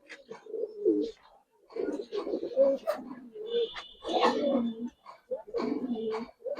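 Giribaz pigeons, females being let loose, give soft repeated coos and rustling in bursts across the clip, fairly close, with someone talking over them.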